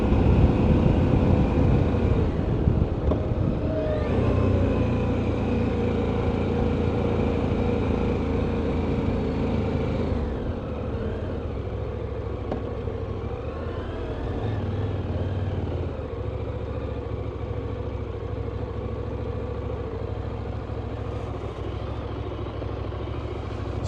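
A 2024 KTM 990 Duke motorcycle pulls a roll-on acceleration in fourth gear, a steady engine drone with rising and falling pitch under heavy wind rush, sustained throughout.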